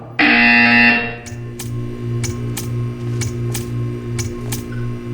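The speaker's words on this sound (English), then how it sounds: "You will hear a buzzer." A loud electronic buzzer in the video game Portal 2 sounds once for about a second, followed by a steady hum and a series of short sharp clicks.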